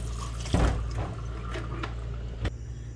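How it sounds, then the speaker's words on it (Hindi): Cold tap water pours steadily over boiled macaroni in a kitchen sink, a continuous loud splashing rush with a few sharper splatter bursts. "इसमें हमने ठंडा पानी ऐड करना है"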